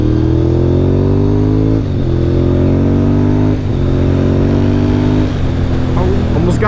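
Honda RC51 sport motorcycle on a test ride, its engine revving loud and close through rising gear pulls, with brief dips at each shift before climbing again; wind rush underneath.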